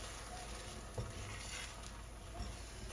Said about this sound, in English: Now we're going to mix scrambled eggs.